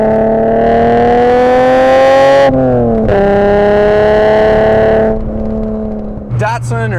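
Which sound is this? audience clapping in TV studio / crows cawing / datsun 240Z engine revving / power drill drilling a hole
datsun 240Z engine revving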